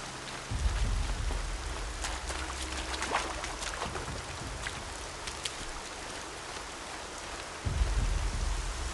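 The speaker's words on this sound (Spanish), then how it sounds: "Sigue lloviendo." Rain in the video game Horizon Zero Dawn, a steady broadband downpour patter with scattered drop ticks and low rumbling swells near the start and end, with no voices.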